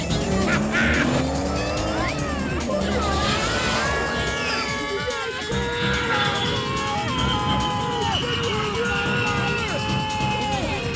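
A cartoon car in a Motu Patlu animated race roars along with a continuous loud engine whine and shifting revs, while cartoon voices and sound effects play over it.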